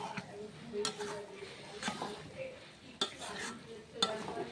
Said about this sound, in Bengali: তো আবার একটু নাড়াচাড়া করে নেবো।